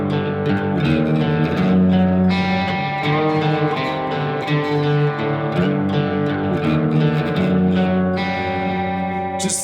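A heavily distorted electric guitar in a drop tuning plays loud, low riffs with pitch bends sliding between notes, a thick sustained tone with effects filling the whole stretch, no voices.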